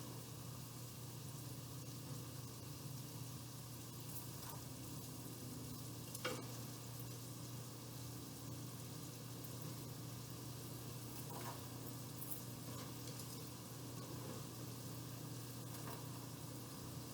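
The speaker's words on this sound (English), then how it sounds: "And you stir it occasionally until the vegetables are tender and onion begins to brown." Celery and other vegetables fry in a pan with a steady, faint sizzle and an occasional soft stir or scrape, close by and without talk.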